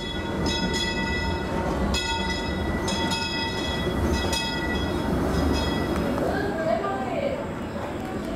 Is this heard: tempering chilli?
no